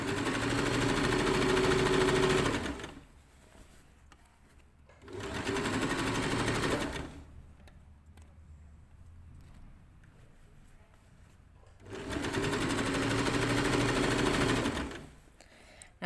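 A sewing machine stitches a waistband onto summer shorts in three separate runs of rapid, even whirring, each lasting a couple of seconds, with quiet pauses between them.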